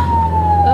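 An ambulance siren sounds loud and close as a single sustained wailing tone, slowly falling in pitch, over a low engine rumble.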